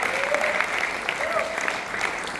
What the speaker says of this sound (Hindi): आप प्लीज आपको एक बड़ा ताली दीजिए।